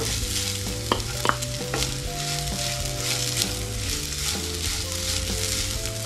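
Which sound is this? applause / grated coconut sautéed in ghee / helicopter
grated coconut sautéed in ghee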